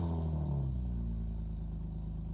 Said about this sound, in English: Small little rev.